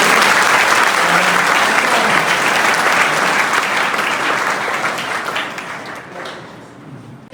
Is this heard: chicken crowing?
no